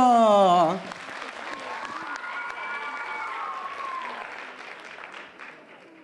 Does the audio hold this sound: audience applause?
yes